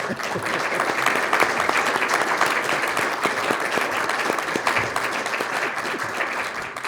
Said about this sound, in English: So I'd actually like us to give her a round of applause.